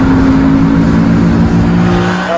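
A Mercedes SLS AMG GT3 race car is pushed hard into a corner, its engine giving a loud, steady tonal roar close by with a faint hint of tire scrub and no voices.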